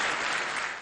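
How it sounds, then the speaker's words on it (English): A resounding ovation fills the UN General Assembly chamber as a Palestinian leader enters: dense, steady applause from a large crowd, loud and unbroken for the whole brief moment. "Then a resounding ovation as a Palestinian leader entered the General Assembly chamber."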